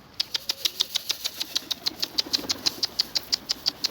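Wings flap in a fast, steady rhythm of about twenty sharp beats in four seconds, close and distinct, as pet birds are fed.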